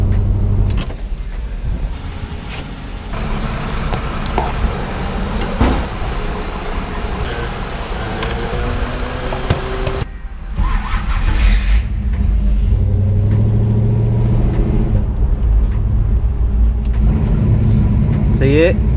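A Chevrolet Nova drives with a steady engine drone and road rumble throughout, its pitch shifting as it accelerates, while a voice talks over it.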